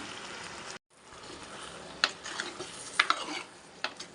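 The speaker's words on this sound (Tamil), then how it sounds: "இப்போ நம்ம ரெடி பண்ணி வச்சுருந்த சுக்காவையும் இதில் சேர்த்துட்டு நல்லா வந்து மிக்ஸ் பண்ணிக்கலாம்" Beef chukka is tossed and mixed in a hot pan, a low sizzle broken by several sharp clinks and scrapes of the utensil against the pan, after a brief silent gap near the start.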